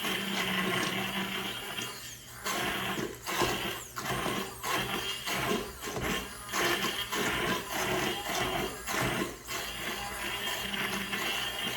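An immersion blender whirs steadily and loudly, its motor pitch wobbling as it churns through thick squash and potato soup, with brief dips in intensity throughout.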